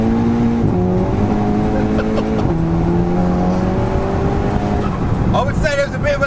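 A VW Golf GTI-R accelerating hard on a timed launch run, engine note climbing through gears with distinct shift drops, loud and close inside the car, with brief voice near the end.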